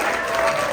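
Applause from a casino comedy-show audience, a short steady wash of clapping with no break, filling the room at moderate loudness.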